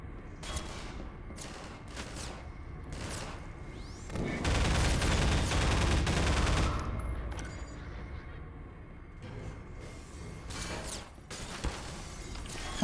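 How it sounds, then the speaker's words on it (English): Gunfire erupts in the video game Half-Life 2. Sharp shots crack out in scattered bursts, and a dense rumbling barrage swells in the middle before single reports return, moderately loud throughout. "Oh my god, who's shooting at me?"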